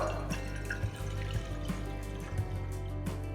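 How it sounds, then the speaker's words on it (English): Water pours steadily into a pot for cooking vegetables for Karnataka-style khara bath, a soft continuous splashing stream with a few faint clinks, quiet and close. "To a pot, pour a little water."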